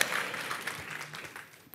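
Brief, soft applause rises from an audience at a corporate event unveiling a new logo and charter for a hospital federation, the clapping faint and distant and fading quickly.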